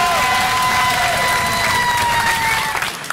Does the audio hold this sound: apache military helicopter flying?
no